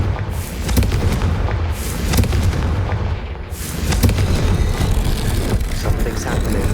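In the Hogwarts Legacy video game, Confringo spell blasts go off as a series of loud booming explosions with rumbling tails, roughly three heavy hits over a dense low roar, with no talking.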